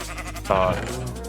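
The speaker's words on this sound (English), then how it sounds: "Yeah, here are the sheep. Let's shear them." A Minecraft sheep gives a single short bleat in the middle, heard alongside a voice talking.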